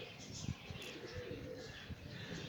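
Low, soft cooing of a flying pigeon in poor condition repeats under a steady background hiss, with a few brief thumps.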